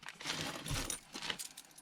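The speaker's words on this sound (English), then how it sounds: "So there's like a lot of keys here." Old rusty metal keys of many sizes, including tiny diary-type ones, jangling and clinking together in quick bursts up close.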